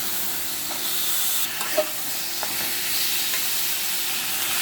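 Potatoes sautéing in a pan for a rohu fish curry with winter vegetables give a steady close sizzle with a few soft stirring clinks, heard alone without talk.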